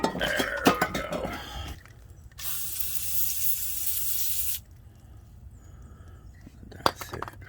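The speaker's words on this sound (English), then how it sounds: "It was some WD-40." An aerosol can of WD-40 sprays in one steady hiss of about two seconds, sitting between quieter handling noises and faint clinks while lubricating the chain on an LT 160 mower.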